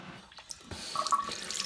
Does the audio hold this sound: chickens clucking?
no